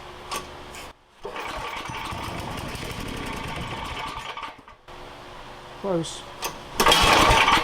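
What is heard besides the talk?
old engine cold start attempts with choke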